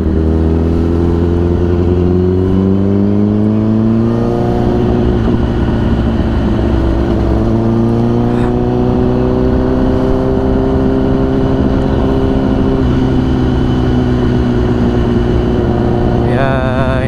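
A Honda CBR 1000 RR motorcycle accelerates with a loud, close engine roar that climbs in pitch through rising revs, under heavy wind rush from the ride.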